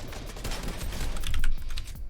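Rapid gunfire in a Fortnite practice map, a burst of sharp cracks close and loud, with no talk.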